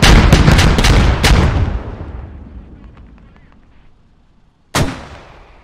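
Mortar rounds fired during a 40 vs 40 match of the video game Squad: a loud cluster of rapid booming blasts with long rumbling decay, then a single sharp explosive crack after a short lull.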